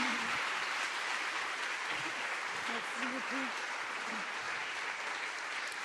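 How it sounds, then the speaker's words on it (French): A conference audience gives steady, sustained applause throughout, with a voice speaking over the clapping. "Vous pouvez l'applaudir très fort."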